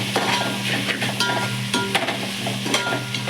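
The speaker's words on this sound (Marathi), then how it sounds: "आपला कांदा टोमॅटो देखील छान असं परतलेला आहे।" Chopped onion and tomato sizzle in a pan while being stirred for a rajma pulao, a steady frying crackle broken by scraping stirs, close and fairly quiet.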